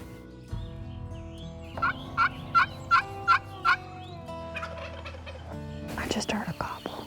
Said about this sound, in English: I just heard a gobble.